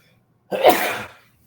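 A single sudden burst from a nearby person, a sneeze-like explosive exhale lasting under a second and tailing off, alone in a quiet room.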